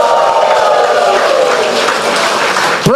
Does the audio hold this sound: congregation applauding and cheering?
yes